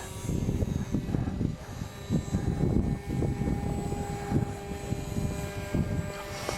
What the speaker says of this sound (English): Anyway, I like that plane. It's a good flying plane.